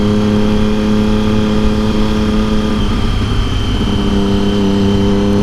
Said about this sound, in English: My motorcycle is like loud.